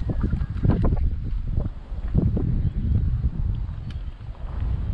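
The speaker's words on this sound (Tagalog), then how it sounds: "Grabe, lakas ng hangin kasi." Strong wind buffets the microphone outdoors during crossbow hunting, loud, uneven low-frequency gusts that surge and drop across the whole stretch with no voices.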